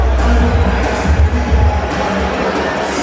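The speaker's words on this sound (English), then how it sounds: "People screaming and cheering for Inter Miami coming out." A stadium crowd screams and cheers as Inter Miami walk out on game day at a Leagues Cup match, a loud, dense, sustained roar with swelling peaks throughout.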